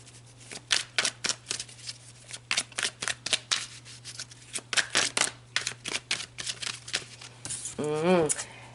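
Tarot cards are shuffled and pulled in a run of quick crisp riffles and slaps, close and fairly loud, over a low steady hum, with a brief voice near the end.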